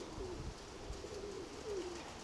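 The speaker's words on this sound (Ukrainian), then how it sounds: "Це вже це вже сплошний сизий голубок." Rock dove cooing outdoors: a few soft, low, gliding coos, faint and somewhat distant, set against a quiet background hum.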